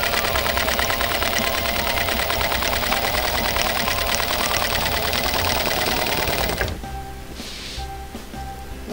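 A sewing machine quilting along an oval Ponto Certo ruler runs in a steady, fast, close mechanical hum for nearly seven seconds, then stops and leaves faint handling sounds.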